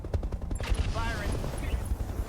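Mech weapons firing in a BattleTech RogueTech battle, a rapid series of close gunshot-like bursts with whirring tones, under game voice callouts.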